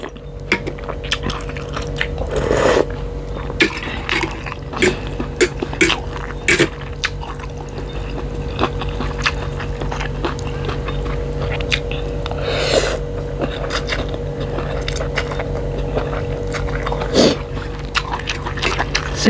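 Someone chewing crispy fried screw chili peppers at a beef noodle meal, with close, wet crunching and squishy bites that repeat irregularly, including a few sharper crunches, and no talk.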